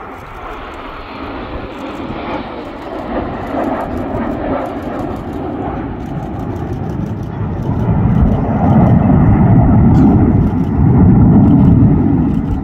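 Red Arrows jets flying an aerobatic formation display at an air festival, a sustained loud engine roar that swells and deepens as the aircraft pass close overhead, steady and unbroken with no speech.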